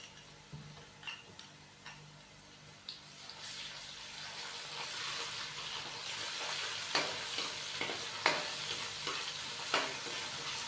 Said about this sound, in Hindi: अच्छे से इसको मिक्स करेंगे और थोड़ा सा फ्राई होने के लिए छोड़ देंगे